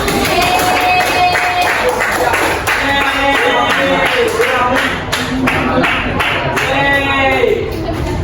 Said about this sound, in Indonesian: Tepuk tangan untuk Pak Ustaz.